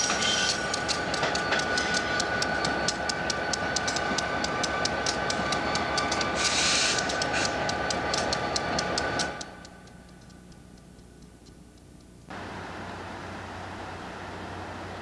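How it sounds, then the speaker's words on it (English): A CSXT extra Iron Highway freight train rolls past on the Plymouth Subdivision in 1996, its loud steady rumble carrying rapid rhythmic wheel clicks before abruptly dropping to a quieter distant hum, then rising slightly again. "it was called an extra iron highway train on the radio this morning."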